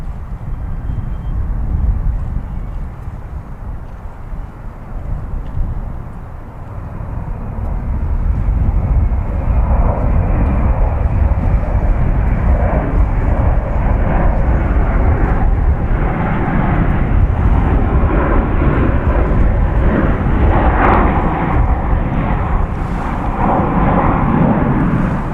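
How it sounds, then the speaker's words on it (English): A Delta airliner from Minneapolis–St. Paul roars past at DFW airport, a loud broad jet rumble that swells after a few seconds and holds steady for the rest of the pass, with no voices. "that was the Delta flight from Minneapolis, St. Paul"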